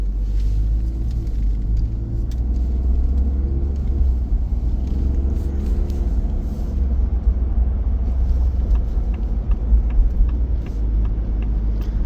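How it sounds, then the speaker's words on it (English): A 2025 Ford F-150 pickup truck cruises along with a continuous low engine and road rumble heard from inside the cab, steady and fairly loud, with light tyre hiss and no voices. "I feel like I'm actually driving a pickup truck."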